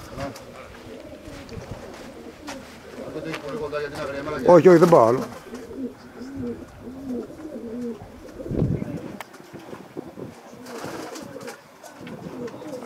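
Fancy pigeons cooing at a pigeon club gathering in Moschochori, repeated throaty coos and wing flutters, a loud burst midway, with people talking nearby throughout.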